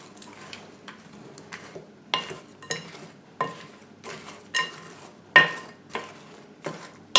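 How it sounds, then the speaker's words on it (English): A wooden spoon works through thick chocolate muffin batter in a bowl. It gives soft, irregular scrapes and knocks about once a second against the bowl, close and fairly quiet, with no voices. "now we're just going to give that a good mix with a wooden spoon"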